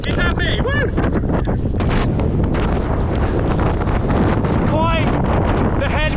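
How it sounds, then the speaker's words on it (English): Heavy headwind buffeting a microphone while cycling uphill on an Exmoor hill climb, a constant loud roar throughout with brief voices and cheering mixed in. "Quite the headwind now"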